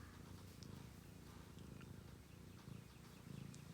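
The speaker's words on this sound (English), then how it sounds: "Ren, I hear you purring" A cat purrs steadily and close by, a soft continuous rumble with a gentle rhythmic pulse running through the whole stretch, heard alone in a quiet indoor room.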